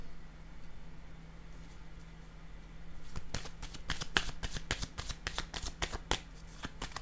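A deck of tarot cards is shuffled close by in quick, crisp riffling bursts after a quiet start, with a faint steady hum underneath.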